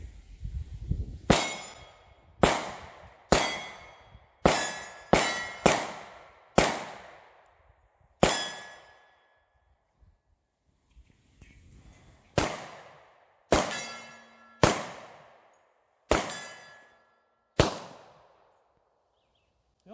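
Gunfire at an outdoor shooting range with steel targets, about fifteen sharp loud shots spaced irregularly across the stretch, each followed by a ringing metallic clang and decaying tail, with brief quiet gaps between.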